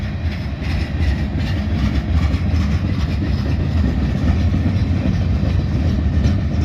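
CSX freight train of big gondola cars rolling past, a loud, steady rumble of wheels on rails with faint clacking that continues throughout.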